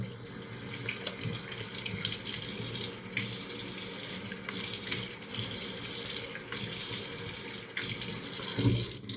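Tap water runs steadily into a sink for face washing before a shave, a continuous close hiss and splash with slight shifts as hands move through the stream, no voices.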